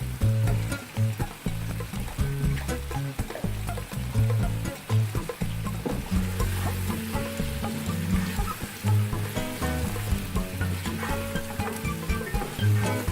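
Pieces of chicken and tomato fry in hot oil for chicken yakhni pulao, with black pepper just added. A steady, dense sizzle runs throughout, with occasional stirring and spattering close up and no talking.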